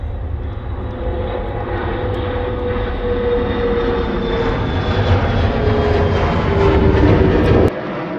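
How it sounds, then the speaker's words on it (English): Airliners land and take off at Charlotte Douglas Airport, giving a loud, continuous engine roar heard from a distance with no pauses for the whole stretch. "I got a landing and a takeoff at the same time."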